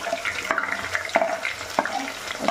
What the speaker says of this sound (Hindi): प्याज को हम गोल्डन ब्राउन होने तक फ्राई कर लेंगे